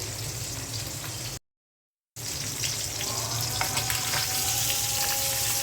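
Fish fries in hot oil with a loud, steady hiss and crackle, cut by a short silent gap before the sizzling resumes at the same level.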